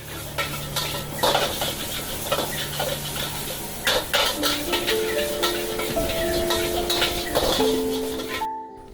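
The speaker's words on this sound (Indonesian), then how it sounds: "Kita langsung bisa melihat kokinya memasak di situ ya." A chef cooking in an open kitchen at a 24-hour nature cafe in Pancawati, Bogor, with stirring, clinking pans and utensils, and faint sizzling, busy and close, with brief tonal beeps near the end.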